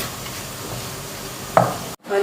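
Potato halwa stirred after milk powder goes in: a short spell of soft, steady frying hiss with a single scrape near the end before a brief drop to quiet.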